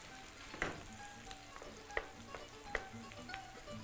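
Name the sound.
cabbage frying in a pan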